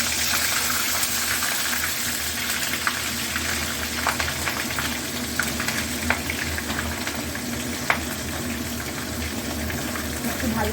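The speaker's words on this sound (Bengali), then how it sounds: "এবার ফুলকপিগুলো এই তেলের মধ্যে দিয়ে দেবো" Cauliflower florets frying in hot oil with whole garam masala such as cinnamon and cardamom, a steady close sizzle and crackle running throughout, with a few sharper pops and faint speech over it.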